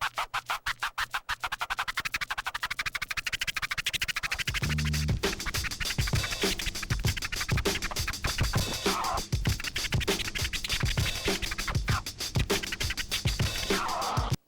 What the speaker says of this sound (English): a scratch that was really popular back then was a chirp scratch.